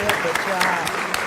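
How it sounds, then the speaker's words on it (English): Brief round of applause for a person at a city council meeting, a small group clapping with a few distinct claps standing out, with voices audible underneath. "Give it up for Erin. Give her a round of applause."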